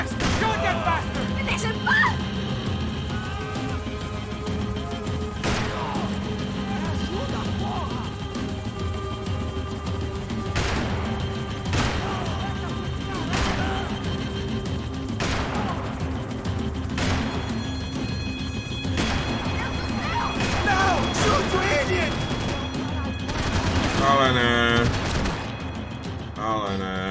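Gunfire in the Max Payne 3 video game: sharp shots and bursts ring out repeatedly over a loud, dense action soundtrack, with talk over the scene.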